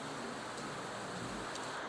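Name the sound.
rain falling outside a venue balcony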